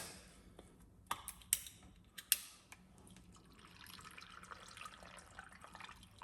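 A few sharp clicks and clatters, then a steady splashing rush of water pouring into a blender jar holding lemon, for carrot juice.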